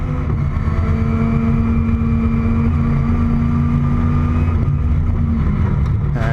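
Onboard a race car at Zandvoort after a crash, the engine drones steadily and loudly while the car scrubs off speed in the gravel trap, with a low rumble and faint rattling throughout.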